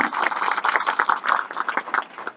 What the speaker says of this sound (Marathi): टाळ्या जोरात व्हायला पाहिजे